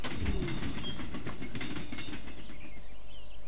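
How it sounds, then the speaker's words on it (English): A train rolls along a railway line running through a house in the Hello Neighbor video game, a steady loud rumble with rhythmic wheel clatter throughout. "Who has a railway line like running through the house like that?"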